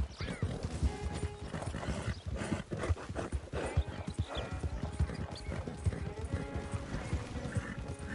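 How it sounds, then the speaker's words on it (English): A ridden horse clip-clops along with busy hoof strikes, occasional whinnies and clattering, close and continuous under faint background noise. "I want to ride this horse until it bucks me."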